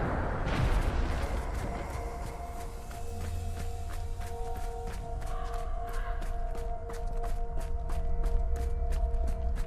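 A Bombarda spell explosion in Hogwarts Legacy, a heavy blast followed by a long crackling rain of debris and sharp impacts, with lingering tonal hums beneath.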